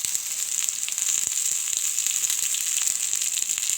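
Deseeded Indian gooseberry sautéing in a pan for chutney, a continuous bright sizzle with crackling pops close up, steady and fairly loud throughout.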